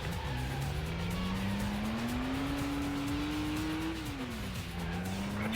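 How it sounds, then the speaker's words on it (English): Car in the Stuntman driving game performing a handbrake turn, a steady engine drone rising and falling in pitch with tire squeal and skidding noise, moderately loud and alone. "Handbrake turn."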